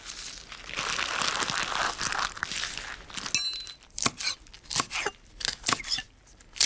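A knife cuts through a bundle of leaves rolled into a tight cylinder, making a steady crunching, crinkling stream that gives way to a series of sharp, separate chops, close and fairly loud.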